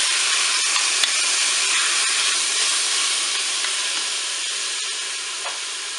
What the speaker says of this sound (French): faut faire attention, ça crépite fort, attention de ne pas vous brûler